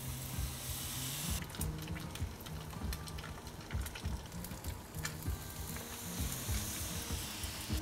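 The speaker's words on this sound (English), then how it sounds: "drop that into the tempura and make sure it gets a nice even coating, and then straight into the hot oil" Tempura-battered whiting fish frying in hot oil, a steady close crackling sizzle with fizzing bubbles that intensifies after a second or so and continues throughout.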